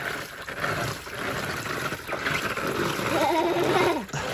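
WLToys 124019 RC car fitted with massive wheels driving through water, with continuous splashing and trickling that swells toward the end, churning steadily and fairly close.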